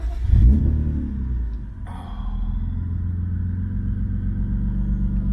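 A BMW E36 drift car engine cranks and catches with a loud burst, then settles into a low, steady idle rumble.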